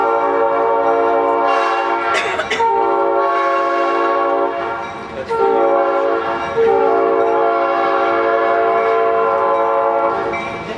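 A train horn sounds long, loud, sustained chords close by as a train passes on the railroad, blaring almost continuously with a few brief dips and restarts.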